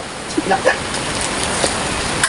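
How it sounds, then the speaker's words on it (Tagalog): Heavy rain during a storm pours in a steady, dense hiss that fills the whole stretch. A few faint clicks and taps sound beneath it, and there is no clear speech. "lakas ng ulan"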